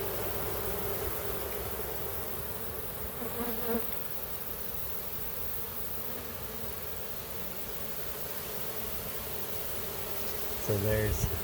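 Honey bees swarm around an open hive, a dense continuous buzz that fills the whole stretch at steady loudness, with a couple of brief close passes near the end.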